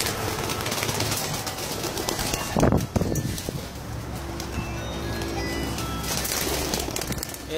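Pet pigeons kept in a home loft cooing with a burst of wing flapping midway, rustling and soft calls close by under steady background noise.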